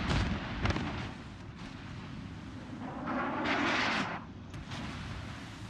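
Naval gunfire in a warship video game, with heavy booming shell impacts and low rumbling blasts and a brighter burst of hits near the middle, all loud and continuous.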